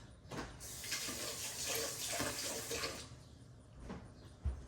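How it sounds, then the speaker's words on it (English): Tap water runs steadily over a metal fork in a home kitchen, a broad rushing hiss lasting about three seconds before it cuts off, followed by a quieter pause and a soft clunk at the end. "I'm gonna rinse this fork off."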